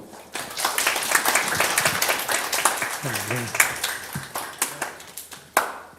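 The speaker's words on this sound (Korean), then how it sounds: "장시간 동안 열강해 주신 우리 정용관 총원장님께 다시 한번 뜨거운 박수 보내주시면 감사하겠습니다" Audience applause at a university admissions information session in Gimje, a dense run of many hands clapping that is steady and moderately loud throughout, with a brief voice heard partway through.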